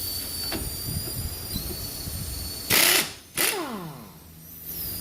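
Mechanic working a wrench on the tie rod end nut of a Chrysler PT Cruiser, with metallic clicks and ratcheting, two loud bursts of tool noise, and a descending squeal as the nut turns, close up.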